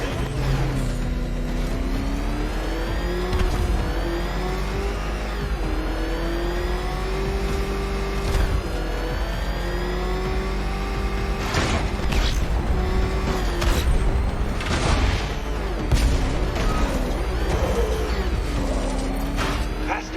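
A car engine in Batman: Arkham Knight revs continuously in a loud, rising and falling drone with repeated pitch sweeps, joined by clanks and impacts toward the later part.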